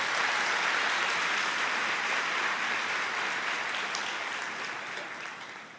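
Congregation in church breaking into thick, sustained applause, loud and even throughout before tapering off in the final seconds.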